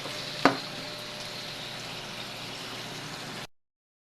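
Chicken liver sautés in a pan for adobong atay, giving a steady soft sizzle with a single sharp clink near the start, then the sound cuts off.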